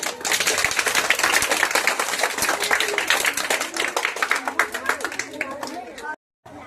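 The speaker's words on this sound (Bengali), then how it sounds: "জোরে হাততালি দাও।" A room of schoolchildren claps loudly and fast after a fourth-grade girl's yoga display. The dense, ragged applause runs for about six seconds with voices mixed in, then cuts off abruptly.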